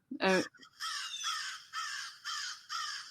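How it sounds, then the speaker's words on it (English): Crows caw in a series of harsh, repeated calls, with one sharp near caw followed by four longer bursts at a moderate distance. "you got crows"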